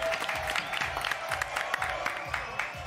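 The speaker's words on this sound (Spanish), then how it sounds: "Le aplauso para Andrea Falcone." Studio audience applause greeting a guest on an Argentine TV news programme, brisk clapping over a pulsing music bed with a low rhythmic beat, moderately loud and continuous through the short stretch.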